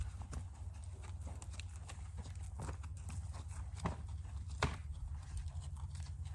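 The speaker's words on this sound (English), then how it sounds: "This horse is not too happy about going forward, but it is going forward." Horse hooves clip-clop in a slow, uneven walking rhythm, fairly close, over a low steady background rumble.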